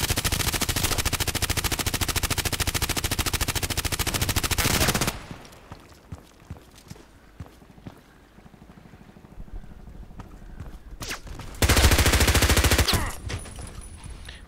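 Rapid automatic gunfire in the online shooter Contract Wars hammers out in a long, loud sustained burst, then falls to scattered single shots and quiet, before another short loud burst near the end.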